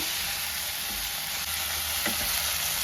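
Mixed vegetables sizzle steadily in a pan while a spatula stirs them, with soft scraping knocks over the constant frying hiss.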